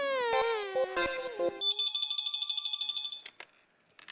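A telephone ringtone for an incoming call in a TV sitcom scene: a loud, close electronic melody that glides between pitches, then a steady run of rapid repeating beeps that cuts off, with no talking.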